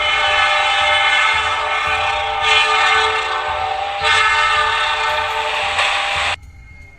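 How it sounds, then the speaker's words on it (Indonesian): A high-speed train rushes past, a loud steady roar of wheels and rail with dense metallic tonal harmonics, swelling in surges before cutting off abruptly near the end. "kereta yang melaju dengan kecepatan tinggi"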